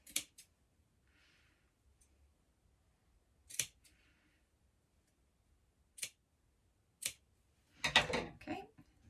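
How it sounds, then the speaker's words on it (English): Scissors cutting fabric pieces for a Hughes dress, giving several crisp, close snips spaced apart and ending in a quick flurry of cuts. "So let's just cut those pieces up."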